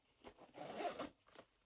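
A zipper on a handbag's interior pocket is pulled in several quick, close raspy strokes, one longer run in the middle and shorter tugs before and after, quiet with no talking.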